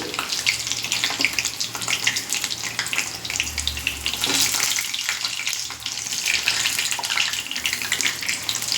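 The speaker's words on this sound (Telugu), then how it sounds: "ఇవి బాగా ఫ్రై అయ్యాయండి చిట్పట్లు ఆడుతున్నాయి" Bajji chillies deep frying in hot oil, a steady dense crackle and hiss that runs the whole time, close and fairly loud, with no talking.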